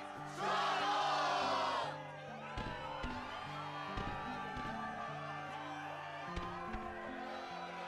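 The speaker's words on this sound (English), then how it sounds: "the crowd is fired up" A fired-up arena crowd in the Kingdom Hearts video game roars loudly for about a second and a half, then fades into a music backdrop with a voice calling out over it.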